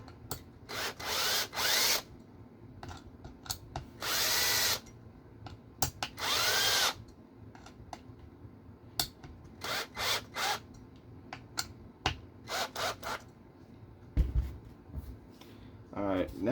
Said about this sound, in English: I'm going to tighten those screws up to hold the metal chassis down.